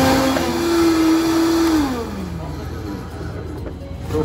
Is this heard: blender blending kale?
yes